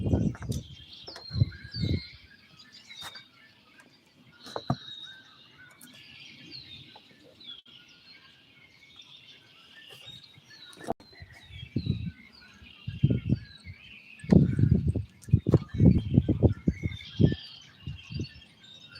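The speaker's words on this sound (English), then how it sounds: "Ooh, the birds are loud." Birds chirp and twitter high in the trees, a busy, faint chorus running throughout, with occasional nearby thumps and rustles underneath.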